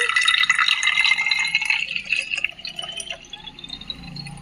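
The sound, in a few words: pouring liquid mixture into a spray bottle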